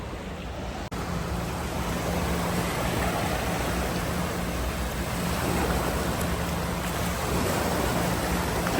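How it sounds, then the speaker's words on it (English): Waves wash and roll onto a Dubai beach in a continuous, broad rush, with some wind buffeting the microphone. "of the waves, the water, and the ground in, the earth beneath my feet"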